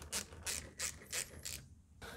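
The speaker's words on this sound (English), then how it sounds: "we've got these hose clamps, which are gonna be opened with a 7 millimeter socket" A ratchet with a 7 mm socket loosens hose clamps on a Ford Focus 1.0 engine, making about five quick rasping clicking strokes in a steady rhythm, close and fairly quiet, with no voices.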